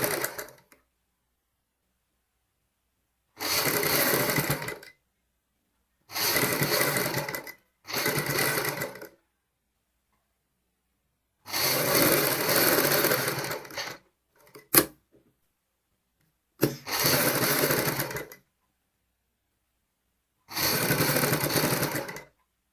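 A sewing machine stitches a blouse seam at home in seven separate bursts of steady whirring, each lasting one to two seconds, with silent gaps between them and a sharp click near the middle.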